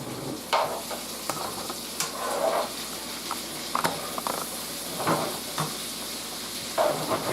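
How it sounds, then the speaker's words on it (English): Tomatoes drop into a hot pan and fry with a steady loud sizzle and hiss, broken by occasional stirring clatters. "Now we're going to add the tomatoes."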